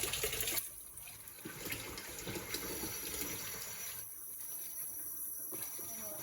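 Warm water runs from a kitchen tap while tortilla dough is being made, a faint, steady hiss of flowing water that continues throughout, with a voice talking over it early on.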